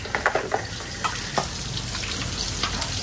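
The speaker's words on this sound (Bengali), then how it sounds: "এখানে দেখো পেঁয়াজ টিয়াজ সব ভালো করে ভাজা ভাজা করে নিচ্ছি।" Onions frying in a pan of oil with dried red chilli tempering, a steady close sizzle broken by sharp crackles and occasional stirring clinks, no voices.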